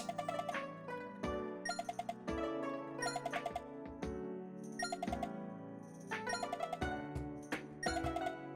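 A repeating electronic chime pattern from Sonic Unleashed on Wii, bright two-tone dings recurring every second or so in a steady looping melody, fairly quiet and without voices.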